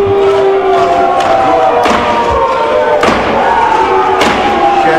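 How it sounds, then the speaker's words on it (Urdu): Opposition members in the National Assembly pound their desks with loud, scattered thumps amid a roaring crowd of shouting and jeering voices, the din continuous and close throughout. "اپوزیشن ارکان نے ایجنڈے کی کاپیاں پھاڑ دیں، ڈیسکیں بجائیں، او کی آوازیں نکالی"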